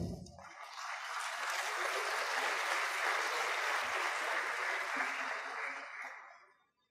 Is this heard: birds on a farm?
no